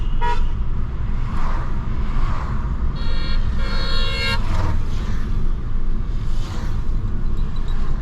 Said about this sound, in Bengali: হর্নটা অনেক ক্রিস্প।